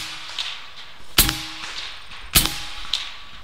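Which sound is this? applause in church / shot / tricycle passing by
shot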